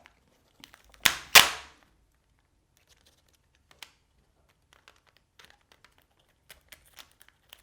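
Two sharp, quick snips of scissors cutting tape close up, followed by scattered faint clicks and rustles in a quiet room.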